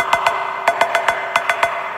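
Short metallic cowbell hits from an Elektron Machinedrum drum machine, about a dozen sharp strikes in an uneven pattern of pairs and clusters, close and fairly loud with nothing else playing.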